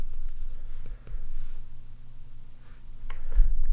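A stylus scrubs back and forth across a digital drawing tablet while erasing lines, making soft close scratching strokes that pause briefly and then resume.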